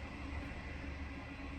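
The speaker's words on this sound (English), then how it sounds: "There's a train going past," A train rumbles past at a distance, a steady low rolling drone of rail wagons heard alone, fairly faint and continuous throughout.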